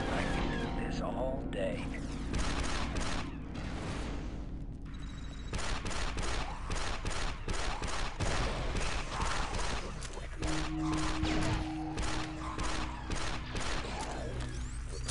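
Blaster gunfire in the Star Wars Republic Commando video game, dense rapid bursts of shots and combat noise filling the whole stretch at a steady loud level.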